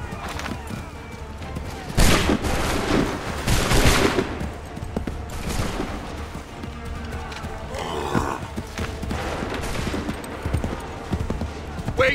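Musket volleys fire on an Assassin's Creed III battlefield, heavy booming bursts with crackling echoes, mixed with shouted commands and the clatter of troops.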